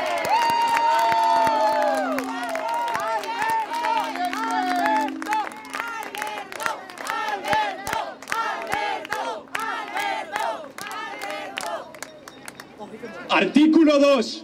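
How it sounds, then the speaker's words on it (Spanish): At a Vox political event in Girona, a crowd applauds with scattered clapping, cheers and chant-like shouts that swell and fade, then a final louder burst rises near the end. "un fuerte aplauso"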